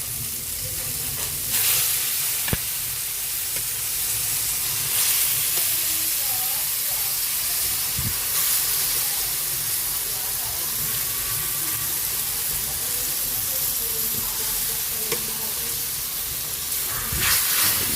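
Mung beans hitting a hot pan with onion and tomato for Filipino ginisang munggo, a steady loud sizzle and hiss with occasional stirring clanks and scrapes, a voice talking faintly in the background.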